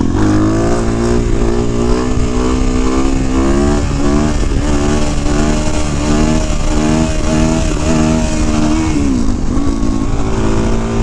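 A Suzuki DR-Z motorcycle with a massive oil leak idles and revs loudly up close right after a wheelie, a continuous throbbing engine note with wavering pitch, rising and dipping, no talking.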